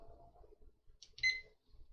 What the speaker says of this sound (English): set this timer